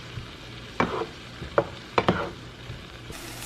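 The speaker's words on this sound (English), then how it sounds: "I'm gonna let this saute for a few minutes" Vegetables sauté in a hot pan, soft sizzling under a few sharp scrapes and clacks of a utensil stirring them, close up and fairly quiet.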